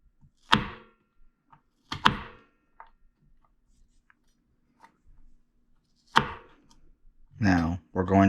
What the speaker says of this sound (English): now we're going to go ahead and slice them in half. There we go. We have more or less julienne or carrots